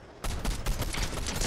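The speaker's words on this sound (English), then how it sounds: "I hear a whole bunch of gunshots." Dense, sustained burst of overlapping gunfire in the video game Fortnite, loud and continuous after a brief quiet start, like a fusillade of many rapid shots.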